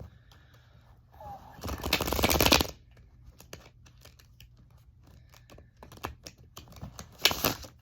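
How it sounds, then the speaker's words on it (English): Shuffling of a deck of playing cards: a dense riffle burst lasting about a second, then scattered soft taps and card handling, another shorter riffle near the end, over a faint background. "Shuffle 3 times, cut them 3 times."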